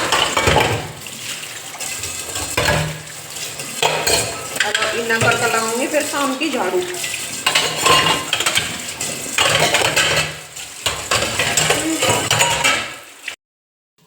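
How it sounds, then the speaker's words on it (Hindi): Dishes and utensils are washed in a home kitchen sink, with steady clinking of steel pots, plates and cutlery under running water for a long stretch, while someone talks over the clatter. "तो जी फिलहाल बर्तन साफ़ करिए ही"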